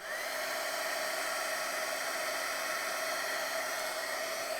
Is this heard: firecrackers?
no